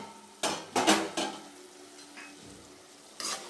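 Egg curry with half-boiled eggs frying in a pan as a spoon stirs it: a few distinct scraping, clinking strokes against the pan over a soft continuous sizzle, close and fairly quiet, with no speech.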